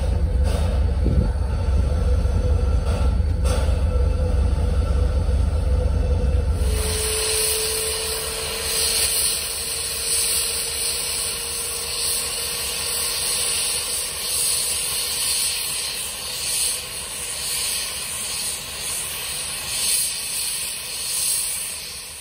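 The Pere Marquette 1225 steam locomotive sits on a turntable outside its steam shop, first with a loud low rumbling hiss, then a sustained squealing tone as it turns, under a steady wash of steam hiss and clanking.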